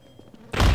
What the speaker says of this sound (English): I clubbed you in the head pretty hard